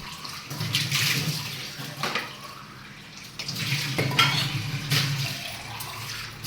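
Water splashes and pours in uneven bursts while dough is squished and kneaded by hand, close and fairly loud.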